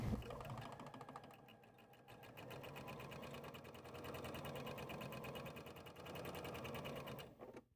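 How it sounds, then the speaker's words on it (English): Home sewing machine stitching a seam on fabric for a baby sling, a steady close whirring with fine rapid needle ticks running for several seconds before stopping, no talking. "Now let's step to our machine and sew on this line."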